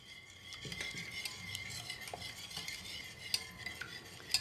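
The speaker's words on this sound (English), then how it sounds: "Now all my liquid ingredients I have mixed up." A utensil stirs and clinks against a bowl while liquid bun dough ingredients with yeast and an egg are mixed, giving close, quiet scraping with sharp taps of metal on the bowl and no talk.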